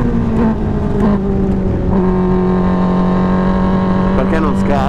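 Formula 4 race car engine droning at steady high revs from onboard during a break-in run, with shifting tones and gear changes while someone talks over it.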